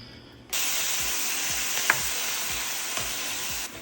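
Vegetables frying in oil for a vegan lasagna filling: a sudden, steady close sizzle that starts abruptly and hisses evenly throughout, with soft low thumps recurring underneath and no talking.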